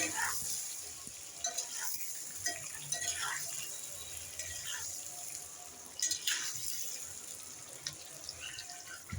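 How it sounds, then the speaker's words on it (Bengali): Eggs frying in hot oil in a pan for a spicy Bengali egg korma, a steady broad sizzle with occasional louder spits and stirring scrapes, close and fairly quiet with no speech. "ডিমগুলোকে আমি একটু ভালো করে ভাজবো"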